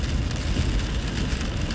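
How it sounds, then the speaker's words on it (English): Steady rain pours down on a rainy day, a dense, even hiss of drops striking surfaces with no pauses and no voices. "This rainy day"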